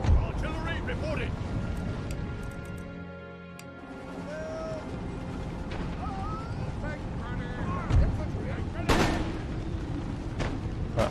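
Artillery cannons fire in Empire: Total War as Great Britain, dull booms spaced out over wind-like ambience and battle noise, with someone talking throughout.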